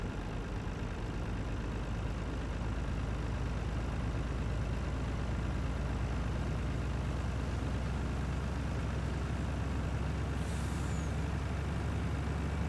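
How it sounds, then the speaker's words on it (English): A truck in Farming Simulator 19 idles with a steady low engine rumble and hiss, and a brief air-brake release sounds near the end, heard alone without talk. "Let's get a truck here a minute."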